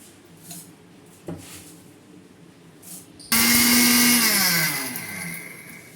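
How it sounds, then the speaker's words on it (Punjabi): A kitchen mixer grinder grinds puffed rice and roasted chickpeas: a few light knocks, then the motor roars in loud and close, whines high for about a second and settles into a steady grinding drone. "ਇਹ ਵਾਲੇ ਜਿਹੜੇ ਪਰਮਲ ਤੇ ਛੋਲੇ ਨੇ ਨਾ ਇਹ ਆਪਾਂ ਹੁਣ ਇਹਦੇ ਵਿੱਚ ਨਾ ਮਿਕਸੀ ਵਿੱਚ ਇਹਨਾਂ ਨੂੰ ਸਾਰਿਆਂ ਨੂੰ ਪੀਸ ਲੈਣਾ"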